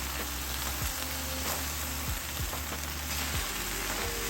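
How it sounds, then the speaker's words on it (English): Shrimp, okra and sausage sizzle loudly in a pan over high heat, a steady crackling hiss broken by the soft clacks and shifts of tongs turning the food. "what I'm doing now is just constantly picking it up, putting it back down, letting it go ahead on and just saute on a high heat"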